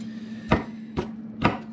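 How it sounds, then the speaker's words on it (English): A knife cubes mango slices for ceviche on a cutting board, making three evenly spaced, crisp chops up close against a low background hum, with no speech. "So I've just got some mango slices. I'm going to cube these up just like I did everything else"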